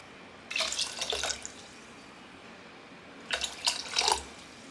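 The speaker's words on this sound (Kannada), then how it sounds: "3 ಕಪ್ ಹಾಕೋಷ್ಟು ನೀರು ಹಾಕ್ಕೊತೀನಿ" Water is poured into moong dal for saaru in two short bursts, a splashing pour, then a pause, then a second brief pour. The sound is close but quiet, and nobody speaks.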